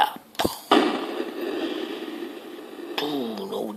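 A tank fires its gun in a 2019 Amiga game: a sharp burst of noise, then a sustained rumbling roar that trails off, followed by brief tonal game effects near the end.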